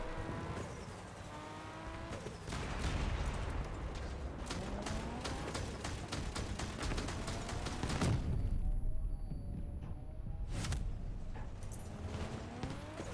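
Shredder shotgun blasts boom repeatedly in vehicle combat in Crossout, sharp loud shots over revving engines and mechanical clatter, with a brief quieter stretch before the firing resumes.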